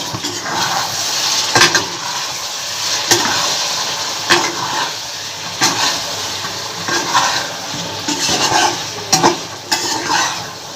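A spicy mint-leaf fried chicken mixture is stirred in a hot pan, with a constant sizzle and repeated sharp scrapes and clinks of the spoon against the metal at an uneven rhythm, close and fairly loud.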